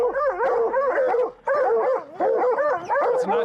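Several hunting dogs bay and bark nonstop at a mountain lion treed in the Colorado mountains, their loud, close, wavering howls overlapping in a continuous chorus with only a brief dip.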